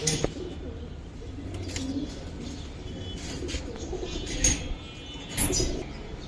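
Giribaz pigeons coo softly and steadily at close range, with a few brief sharper calls and rustles over a constant low background.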